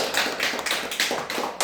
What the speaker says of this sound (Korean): 홍 목사님 우리 박수 한번 해드립니다.